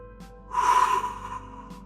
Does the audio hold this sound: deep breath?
yes